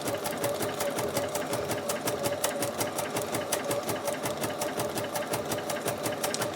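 A sewing machine stitching raw edge appliqué along the edge of a fabric limb shape, running continuously with a fast, even mechanical needle clatter close by.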